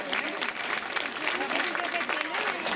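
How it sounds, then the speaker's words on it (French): Crowd applause at the podium ceremony of a cycling race in Brittany, steady clapping from spectators mixed with voices talking over it. "De nouveaux applaudissements qui lui sont destinés"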